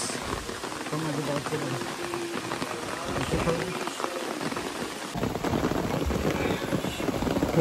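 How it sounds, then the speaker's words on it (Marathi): Heavy rain pours steadily and loudly on a mountain trek along the Khireshwar route to Harishchandragad, a dense continuous hiss with people talking faintly underneath. "आज एवढा भयानक पाऊस पडतोय, खरंच खूप पाऊस पडतोय"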